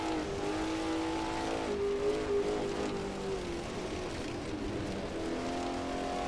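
A race car engine in Assetto Corsa, a 1939 Grand Prix car at Tripoli, holds a steady, droning note with slight pitch shifts throughout, loud and close with no talk.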